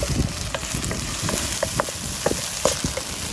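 Garlic leaves sautéing in a pan: a continuous close sizzle of frying, with scattered crackles and light clinks of stirring throughout.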